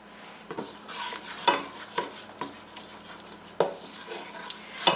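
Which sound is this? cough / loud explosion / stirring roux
stirring roux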